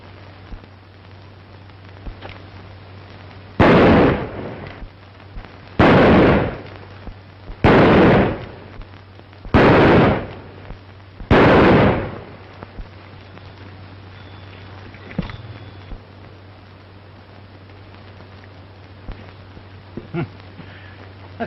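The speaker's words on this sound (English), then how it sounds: "That's pretty good shooting." Five loud, sharp gunshots in a shooting contest from a 1939 western film, evenly spaced about two seconds apart, followed by quieter pops and faint hum.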